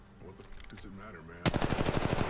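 Machine gun fire in the Apex Legends Mobile video game comes as a loud, rapid burst in the last second, right after a short stretch of speech.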